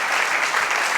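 Church congregation applauding during a sermon, a dense wash of many hands clapping at once, loud and steady throughout the brief moment.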